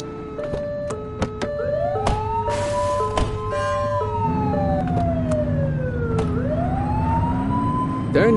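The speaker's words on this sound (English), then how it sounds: "Turn that siren off. We don't need it on right now." A police car siren from the video game The Precinct wails continuously, sweeping up and down in pitch, loud and close, with electronic game tones and engine rumble underneath, and no talking.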